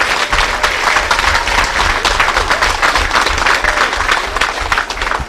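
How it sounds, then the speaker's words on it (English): An audience at a community exhibition applauds the young poster-competition winners, with strong, continuous clapping from a large crowd filling the room from start to finish. "everybody needs to give those kids a round of applause again"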